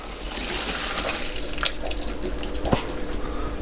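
Water poured from a container over a sieve, a continuous splashing, rushing flow with small spatters and trickles close by.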